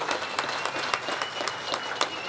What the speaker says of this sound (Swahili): Piga makofi pale